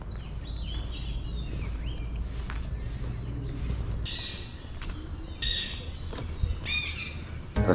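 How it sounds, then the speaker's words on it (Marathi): Along a road at Karnala Bird Sanctuary, several birds sing and chirp in scattered phrases, some close and clear, over a continuous hum of insects. "रस्त्यावरून जाताना पक्ष्यांचा सुमधुर आवाज येत होता."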